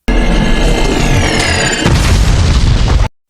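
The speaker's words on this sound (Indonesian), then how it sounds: "Goblin melemparkan beberapa bom, dan salah satunya meledak di dekat Bibi May." A bomb thrown by the Goblin explodes in a Spider-Man movie, a loud, close, booming blast with a rumbling tail, then a second impact and a lingering roar before an abrupt cut.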